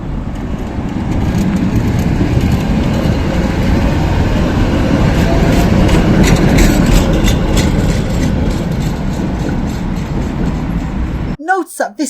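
A Tatra KT8 tram, a bi-directional car converted to one-way running, passes on a street in Sarajevo, Bosnia, with a steady loud rumble of wheels and motors lasting about eleven seconds before cutting off abruptly.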